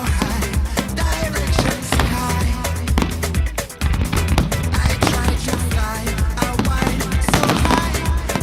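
Fireworks exploding at night during a summer festival in the Czech Republic, a dense, loud barrage of rapid crackling bangs and pops with a brief lull partway through.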